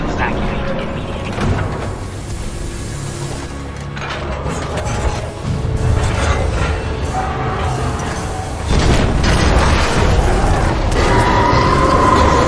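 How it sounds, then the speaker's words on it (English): Rumbling blasts and grinding metallic debris from a collapsing industrial complex in the Titanfall 2 campaign fill a loud, dense stretch of heavy booms and mechanical clatter, with a voice speaking over it. "Series of explosions just weakened the manipulator arm."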